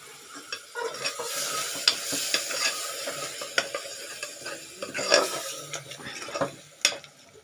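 Yogurt sautéing and stirred in a pan for mushroom biryani, soft sizzling under repeated scraping stirs and light metallic clinks of a spoon against the pan, close and irregular.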